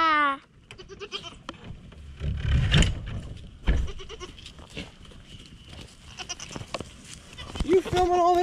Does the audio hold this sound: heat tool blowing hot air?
no